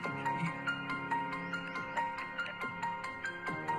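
A phone ringtone loops indoors, a repeating bright melodic pattern playing at a moderate, somewhat distant level.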